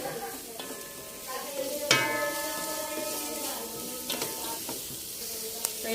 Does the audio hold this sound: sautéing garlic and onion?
yes